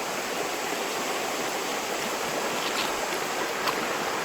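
The Gardon river flows with a steady, dense rush of water, close and constant throughout, with no voices over it.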